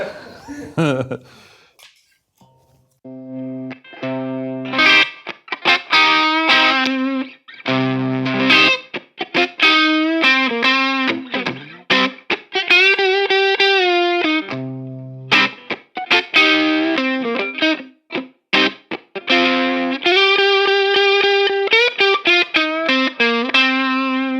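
A distorted Ibanez RG421 electric guitar on the neck pickup plays choppy riffs and held notes with short gaps, loud and close, with a warm, rounded tone.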